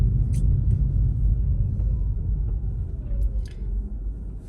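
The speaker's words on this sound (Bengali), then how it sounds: "তাম্মিস্ততে ভালিমতিয়ে রোডে আমি ড্রাইভ করছি" A car driving on a road in the Tammisto area of Finland, a steady low rumble of engine and tyres heard from inside, fading slightly toward the end with a few faint clicks.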